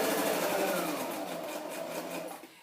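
A sewing machine stitches through a scrapbook page with a fast, steady mechanical whir and rattle that runs close and clear before tapering off at the end.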